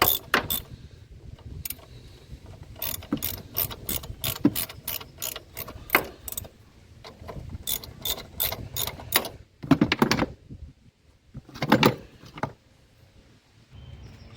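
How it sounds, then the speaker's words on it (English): A 10 mm ratchet works on a throttle body screw of a 2011 BMW 328i, giving rapid runs of sharp, close clicks in irregular bursts with short pauses between them, alone without talk. "So just open it up using a 10 mm ratchet."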